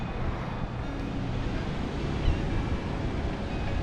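Ocean surf rolls onto a Galveston beach in a constant broadband wash, close and fairly loud, with wind buffeting the microphone.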